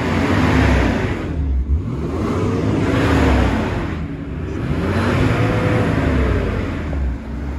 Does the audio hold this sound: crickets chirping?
no